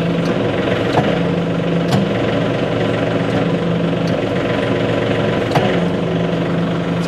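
John Deere 59-inch snowblower engine idling steadily, a loud close continuous hum with a low rumble and faint periodic ticks, no speech.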